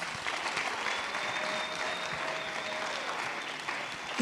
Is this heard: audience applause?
yes